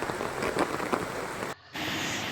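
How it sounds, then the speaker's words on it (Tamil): Heavy rain pours down in Chennai, a dense, loud, steady hiss of drops hitting surfaces, broken by a brief dip before the downpour resumes. "எல்லாம் மழை"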